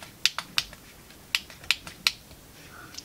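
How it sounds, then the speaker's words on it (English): Sharp, quiet clicks from the keys of a 1970s Texas Instruments Datamath II LED calculator under repair, about seven separate presses in an uneven rhythm, close up with no talking. "Let's see if any of the keys work."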